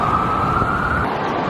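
A New York fire department emergency vehicle sounds its siren, one sustained steady wail carrying over street traffic noise, fairly loud and fading slightly toward the end.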